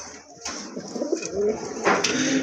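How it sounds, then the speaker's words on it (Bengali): Soft, throaty pigeon coos repeat close by, several low burbling calls in a quiet setting with light background noise. "আরেক জোড়া কবুতর"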